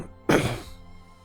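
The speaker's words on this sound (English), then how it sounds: "Naval bombardment. Hit that damn sub." A naval bombardment strike hitting a submarine in the strategy game WarPlan, a single dull, heavy thump that decays over about half a second with a low rumbling tail.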